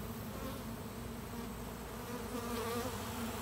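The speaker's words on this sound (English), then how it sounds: "So these bees, they come get sugar water." Honeybees swarm around a sugar-water feeder, making a continuous, dense buzzing hum that holds steady throughout, with no voices heard.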